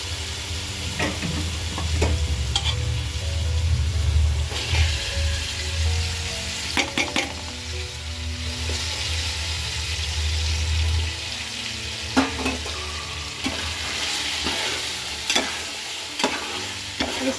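Potatoes, peas and cauliflower fry and are stirred in a pan for pulao, a steady sizzle broken by repeated scraping and clinking of the spoon, fairly close and alone without talk.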